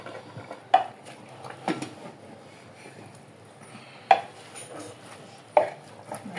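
Charque and beans for a pork-free feijoada are stirred in a pot, with a few sharp spoon knocks against the metal rim over a soft, low background of scraping and bubbling, close by and without talk.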